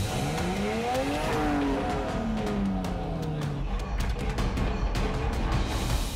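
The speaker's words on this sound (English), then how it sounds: "So I had to rev it right out in first gear" An off-road car competing in a winch challenge course in Malaysia revs hard in first gear at the start, its loud, close engine note climbing and straining steadily with a gritty roar throughout.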